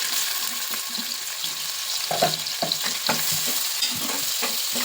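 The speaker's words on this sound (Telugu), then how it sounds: "ఆనియన్స్ మంచి గోల్డ్ కలర్ వచ్చే వరకు ఫ్రై చేసుకోవాలండి." Sliced onions and green chillies frying in oil, giving a constant close hiss broken by irregular spoon scrapes as they are stirred, with no talking.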